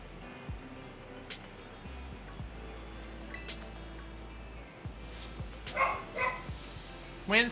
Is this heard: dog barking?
yes